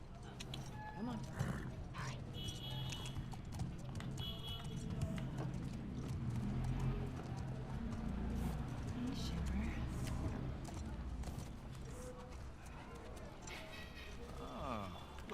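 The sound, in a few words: horse hooves clip-clopping in The Last of Us Part II video game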